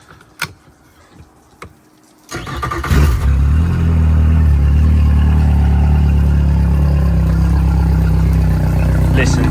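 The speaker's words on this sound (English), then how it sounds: "start the engine up and listen to this boat roar" After a few faint clicks, a rebuilt boat's engine cranks in neutral and catches, then settles into a loud, steady, rumbling roar close by.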